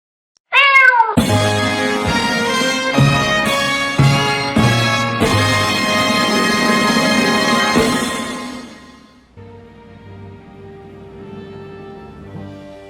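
A cat gives loud, close, drawn-out meows, one after another, with a fainter, quieter call trailing off at the end.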